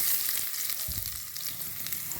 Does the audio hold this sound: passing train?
no